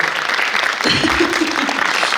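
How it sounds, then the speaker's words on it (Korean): Applause from the audience at a regional policy debate forum in Gyeongsangbuk-do, a brief, dense burst of clapping heard close and continuous, with a voice speaking faintly in the middle. "박수 부탁드리겠습니다"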